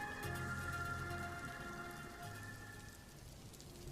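Steady rain falls continuously, a dense wash of drops on surfaces with a faint low hum underneath, no voices present.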